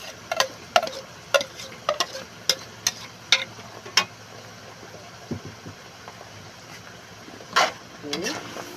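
Ham and mushrooms frying in a pan for carbonara, a soft steady sizzle with repeated sharp clicks and scrapes of stirring, close and moderately quiet.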